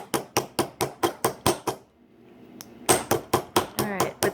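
A domed hammer taps a metal bottle cap on a hard surface to flatten its crimped edge, a fast run of sharp, evenly spaced close strikes, a short pause with faint scraping, then another quick series.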